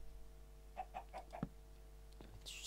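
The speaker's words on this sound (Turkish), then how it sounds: "Şöyle bir tavuk spawnlayalım" Faint clucks from a spawned chicken in the Minecraft video game: four short calls in quick succession, followed by a few soft scratchy sounds over a low steady hum.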